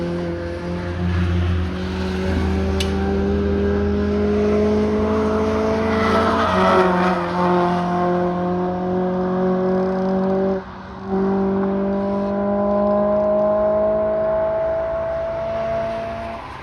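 Ford Fiesta ST with Mountune inlet cams and exhaust, racing on a track day: a loud, close engine rising steadily through the gears, with tire squeal and a brief lift-off dip midway.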